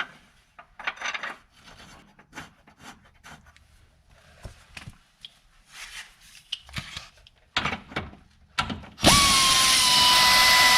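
A power tool drives a screw back into a car's inner fender area during a hidden battery replacement, a steady loud whir starting after scattered handling clicks and scrapes.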